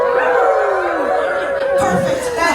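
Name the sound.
people imitating an energetic dog howling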